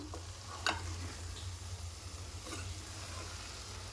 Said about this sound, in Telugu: వంకాయలు వేసేసుకున్నాక ఒకసారి కలిపేసుకోవాలండి మొత్తం